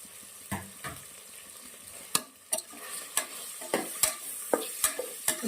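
Onion and green chili frying for a ladies finger (okra) dish, a steady close sizzle broken by sharp spatula scrapes and taps against the pan at irregular intervals, with no voices.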